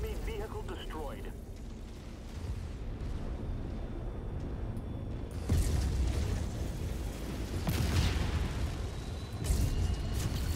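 An enemy tank blows up in MechWarrior 5, with heavy rumbling booms surging midway and again later over constant mechanical combat noise, while voice lines and talk run throughout.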